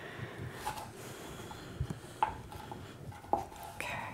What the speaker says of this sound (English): Sarah is going to cut them into chunks